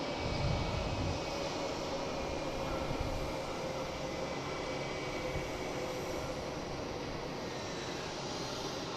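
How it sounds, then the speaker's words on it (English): Jet airplanes at Boston Logan International Airport produce a continuous distant engine roar that stays broad and steady throughout, with no voices over it. "Just constant planes."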